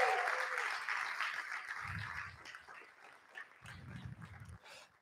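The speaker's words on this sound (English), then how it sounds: "Can we have a round of applause for our speakers," Audience applause at a TEDx event at a Dubai academy, a faint, diffuse wash of clapping from a distant crowd with some low thuds, with no speech.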